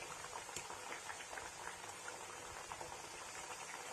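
Aloo papdi fry in oil over a low flame, giving a soft, continuous bubbling crackle at low volume, steady throughout with no voices.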